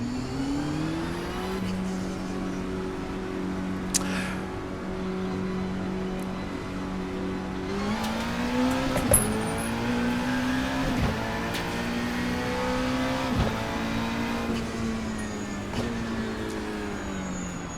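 A GT-M Lanzo V8 race car driven at Imola in Assetto Corsa, its engine droning steadily and rising through gears with brief shift breaks, close and continuous with no talk.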